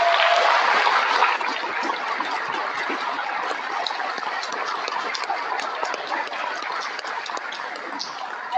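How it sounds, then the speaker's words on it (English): An audience gives a big round of applause to a state-title cheerleading squad at a cheer hall of fame event, a steady wash of clapping that stays even throughout with no talk. "I'd like you to give a big round of applause"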